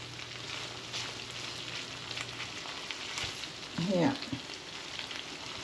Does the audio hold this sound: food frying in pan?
yes